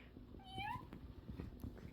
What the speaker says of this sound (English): There's a kitty cat.